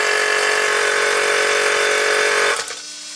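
An Audi Q7 air suspension compressor runs steadily as a loud continuous mechanical whine and buzz, then cuts off abruptly near the end, leaving a quieter hum.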